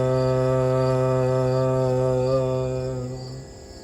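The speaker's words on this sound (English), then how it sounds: "use this harmonium or app or whatever and actually go up the notes" A harmonium sustains a single low root chakra note, rich in harmonics, steady and close before fading out near the end.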